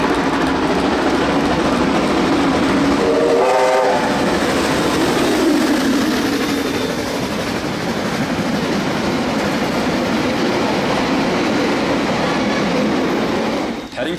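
Steam locomotive Ja 1271 hauling carriages through Penrose Junction in Auckland, a continuous loud rumble of rolling wheels and rail clatter with a brief squeal, close by and steady throughout.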